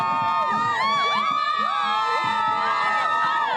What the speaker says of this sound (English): there's a lot of cheering, a lot of celebration on a day they've been waiting for decades